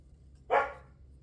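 A dog gives a single short, loud bark from a hallway indoors, standing out clearly against a quiet room with a low hum beneath it.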